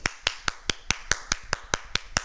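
Eleven sharp hand claps in a fast, steady rhythm, loud and close with no voices, imitating heavy rain coming down hard in a layered body-percussion rainstorm.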